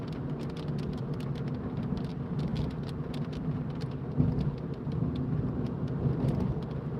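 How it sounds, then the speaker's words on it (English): Steady rain drums on a car roof and windscreen during a drive on a very wet day on the road from Walkden to Wigan, UK, a dense continuous patter with occasional sharper drops over low road rumble. "Oh, the rain's back."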